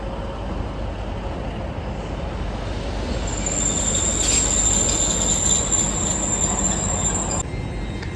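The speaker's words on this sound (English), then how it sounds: "Driving in now is the Northern service 156454." Northern class 156 diesel unit 156454 pulls into Newcastle station to terminate, a steady close rumble of wheels on rail joined midway by a sustained high-pitched wheel and brake squeal that fades before it stops.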